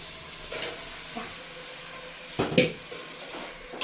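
Chicken pieces tipped into a pan of gravy and stirred for chicken gravy served with chapati: a soft hiss under a couple of light clatters, then a louder burst of scraping and sizzle around the middle.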